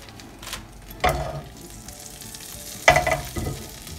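Butter sizzling in a pan with Maggi masala sprinkled on, a steady low frying hiss broken by two louder bursts of crackle and scraping, close by with no talking.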